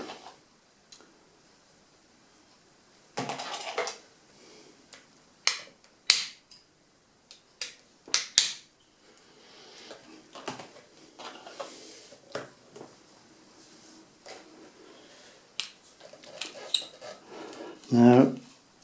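Small metal clicks and light taps while two screws are undone from the plate under the stock of a Reximex Lieva air rifle, just in front of the cocking arm, close up and scattered irregularly, ending in a louder handling clatter.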